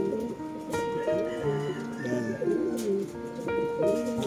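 Racing pigeons cooing at a derby loft in Candon, Ilocos Sur, soft repeated throaty coos in irregular bursts, close and fairly steady, with a voice murmuring faintly underneath.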